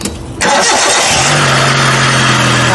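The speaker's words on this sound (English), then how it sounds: "Now let's start the car" A Hyundai car engine, just repaired after misfires, cranks briefly then catches and settles into a loud, steady idle close by with no talk.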